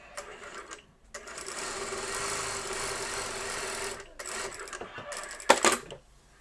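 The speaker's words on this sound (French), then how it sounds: "on va piquer sur 2 morceaux de toile" A professional sewing machine stitches through two pieces of canvas, running in a steady close whir for several seconds, pausing, then a brief final run with a few sharp metallic clicks.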